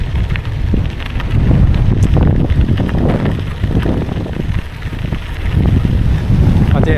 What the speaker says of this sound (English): But they're going into a headwind like this the whole day.